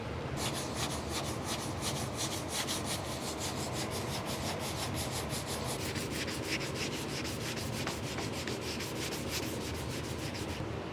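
Primer on a car door is block sanded in rapid, continuous back-and-forth strokes, a steady close abrasive rasping that runs throughout without pause or speech.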